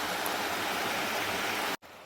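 Floodwater of the swollen Beas river rushes past a damaged farmhouse in a dense, steady roar, loud and close, continuous until it cuts out abruptly near the end.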